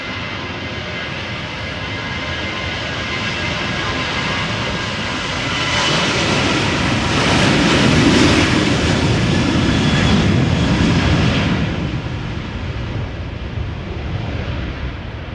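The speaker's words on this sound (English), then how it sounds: "Now you guys could also hear the next 737 already spool up." Boeing 737 jet engines spool up at Amsterdam Schiphol, a broad steady roar that swells louder in the middle and stays strong, heard from some distance with no talk over it.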